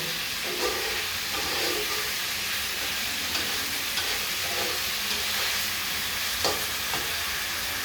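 A fish head sizzles and hisses steadily in a hot pan, with occasional soft stirring scrapes and clinks through the sizzle.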